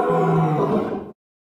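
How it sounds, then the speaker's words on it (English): A lion lets out one deep, full-throated roar, loud and close, lasting about a second before cutting off abruptly. "Lion."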